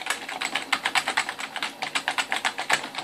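Rapid typing on the keyboard of a Dell Dimension 2400 desktop computer, with a steady run of close, crisp key clicks at an uneven, quick rhythm and no voices.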